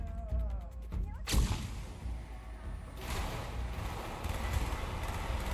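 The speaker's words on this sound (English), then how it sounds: "Flashbang!" A flashbang grenade detonates in Call of Duty Black Ops gameplay, a sharp loud bang followed by a sustained, bright ringing hiss that fills the scene for several seconds with no talk.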